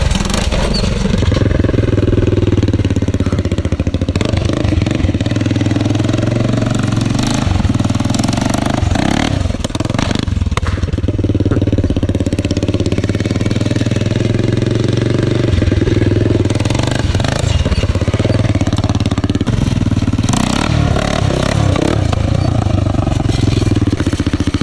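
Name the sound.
quad bike engine with custom exhaust doing wheelies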